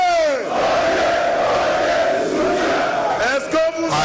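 Large outdoor crowd at a political rally cheers and shouts loudly and continuously, a roaring wall of voices with a whistle-like tone rising and falling near the start and end.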